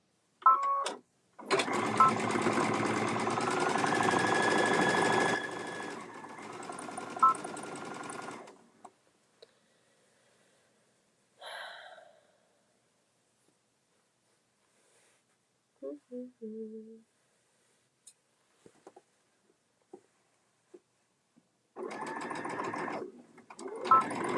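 Sewing machine stitching the corners of a fabric bucket made from fat quarters, a loud steady run of about seven seconds, then faint handling noises and a short final burst of stitching.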